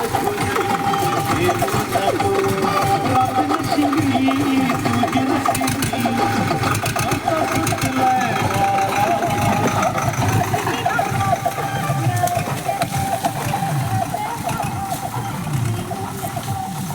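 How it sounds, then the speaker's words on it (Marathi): A tractor engine runs nearby on a rural road among sugarcane fields, a continuous rattling, knocking mechanical drone at steady loudness, with people talking over it. "ट्रॅक्टर आलाय."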